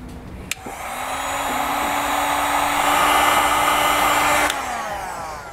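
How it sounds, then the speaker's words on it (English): A heat gun shrinks a butt connector on vehicle trailer wiring, starting with a click and then blowing a loud, steady whirring hiss for about four seconds before cutting off. "then we'll take a heat source and shrink up our buck connector."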